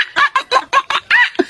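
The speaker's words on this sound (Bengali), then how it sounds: "মুরগি মুরগি মারামারি চলছে" Chickens squabbling in a rapid run of about seven short, harsh clucks and squawks, close and fairly loud, with no talk over them.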